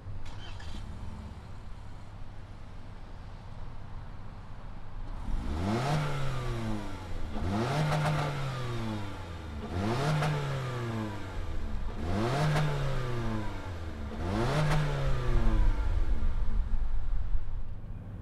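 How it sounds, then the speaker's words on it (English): A 2020 Toyota Corolla Hatchback engine fires up, then revs five times in a steady rhythm, each rise climbing sharply and falling back to idle, loud and close through its fake exhausts. "why don't we fire it up and see what it sounds like out of those fake exhausts"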